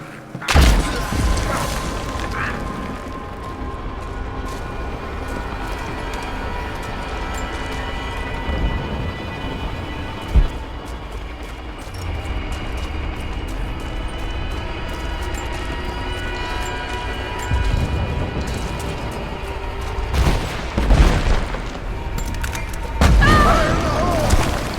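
Gunfire and explosions in Rise of the Tomb Raider: heavy booms and thuds punctuate a steady combat soundscape, with sharper bursts near the start and a loud cluster toward the end, shouted voices mixed in.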